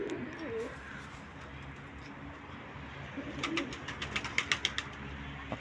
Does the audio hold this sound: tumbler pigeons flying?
yes